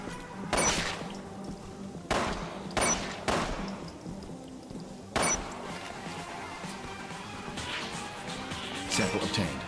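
Beretta 92 pistol fire in a Resident Evil video game: several sharp separate shots spaced irregularly across the stretch, with game ambience and clinks between them.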